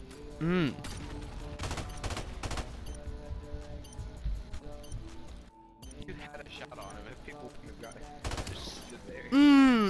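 Gunfire in Call of Duty Modern Warfare Remastered comes as bursts of rapid automatic shots and single cracks through the match, mixed with game sounds, while players talk and exclaim over the action.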